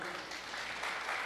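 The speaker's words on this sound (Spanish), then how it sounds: "recibámoslo con un fuerte aplauso a nuestro hermano Diego" Applause from a church congregation welcoming a brother named Diego, a steady wash of clapping at moderate level that lasts the whole short moment, with a little speech mixed in.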